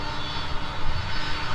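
Jet airliner engines roar steadily at Minneapolis–Saint Paul airport around a runway takeoff, a loud, unbroken broadband rumble with no voices.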